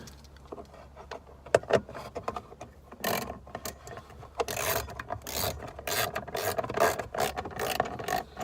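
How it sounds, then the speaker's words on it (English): A ratchet wrench with an extender tightens a bolt set deep in a vehicle. Close, quick clicking strokes come in uneven bursts, alongside rubbing and metallic handling noises. "Before you start to wrench, make sure you're righty-tighty."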